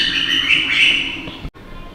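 Birds at a zoo aviary chirp and twitter steadily at moderate loudness amid outdoor ambience, the sound cutting out briefly near the end before resuming more faintly.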